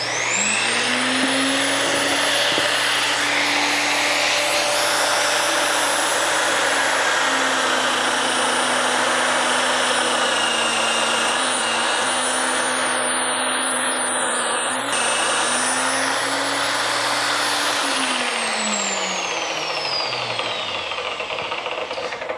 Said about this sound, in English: just mount your grinder, polisher, sander in the vise